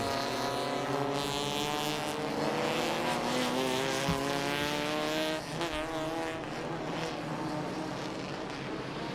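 Race cars roar down the straight at Pira Circuit in Thailand during a Special Car Club Toyo Tire racing round, several engines whining and rising in pitch as they pass close, loud and sustained with a Doppler drop midway.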